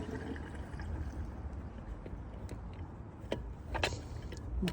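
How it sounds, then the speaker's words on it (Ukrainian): Liqui Moly diesel particulate filter additive poured from a can into a car's fuel tank, a soft steady liquid gurgle and splash close by with a couple of faint clicks, no talking. "Перед цим ретельно змішуємо цю баночку і заливаємо в бак."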